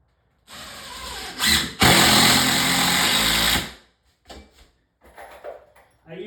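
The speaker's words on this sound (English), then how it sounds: "I'm going to screw this in on an angle through the 2x4 into the bottom plate." Power drill driving a screw at an angle through a 2x4 into a wooden bottom plate during bedroom closet framing, a close whirring burst that briefly stops, then runs again, followed by quieter handling noises.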